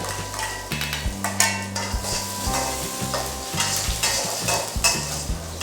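Garlic and ginger sizzle loudly in hot oil in a pan, with steady frying crackle, the scrape and clatter of stirring, and a few knocks of a utensil against the pan; no one talks.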